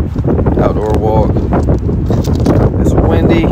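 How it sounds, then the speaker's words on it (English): Gusty wind buffets the microphone in a steady rumble while people talk nearby. "It's windy."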